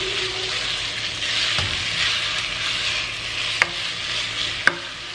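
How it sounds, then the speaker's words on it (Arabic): Chicken pieces and onion fry in a pan for a Ramadan molokhia dish, a steady broadband sizzle stirred throughout, with a few sharp utensil scrapes and clinks near the end. "حنقلب الدجاج مع البصل لحد ما يصير كله لونه ابيض"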